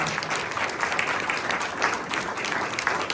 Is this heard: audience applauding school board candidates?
yes